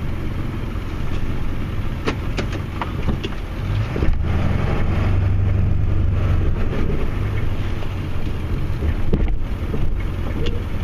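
A car passes on a snowy road beside a driveway where a Ford Super Duty F250 with a Boss plow waits, its tire and engine noise swelling to a loud peak midway and then fading, with no talk.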